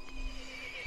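A video game horse whinnies in a steady tone over a low constant hum, with faint hoofbeat-like thuds near the start and end.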